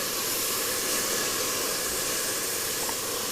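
Steady, loud hiss of a dash of water steaming and sizzling in a hot pan while cooking spaghetti bolognese, continuous throughout with no voices.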